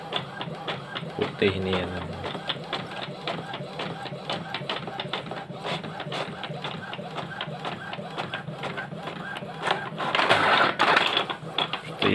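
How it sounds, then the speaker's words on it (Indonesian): An inkjet printer runs blank wedding invitation cards at night, a steady mechanical whir with rapid rhythmic clicking that swells louder near the end, while a person talks over it. "Kita cetak bagian depan blanko"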